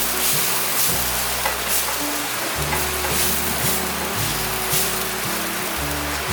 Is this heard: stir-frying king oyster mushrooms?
yes